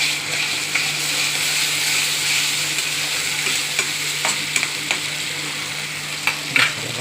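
Masala spice paste sizzles and fries steadily in hot oil for a prawn curry, with a constant crackling hiss and a few sharper clicks and scrapes of stirring near the end, close up and without talk.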